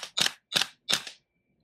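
Airsoft gas blowback pistol emptying its magazine, three loud crisp cracks with slide clatter spaced about a third of a second apart, close up, followed by silence.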